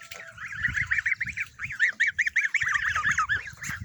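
American ducks honking in rapid repeated bursts, a loud nasal chorus close by with several birds calling over one another.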